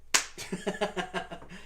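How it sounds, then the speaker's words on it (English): Two hands clap with one sharp, loud slap, followed by a short run of softer, rhythmic pats and taps that fade out over a second and a half, with no one speaking. "That was the sound of 2 hands clapping."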